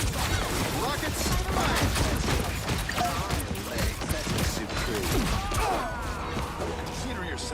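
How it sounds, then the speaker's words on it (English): Iron Man's rocket barrage in the hero shooter Marvel Rivals: a dense, continuous volley of small blasts, whooshes and crackling impacts that runs without a break, quite faint overall and mixed with other game effects. "Rockets!"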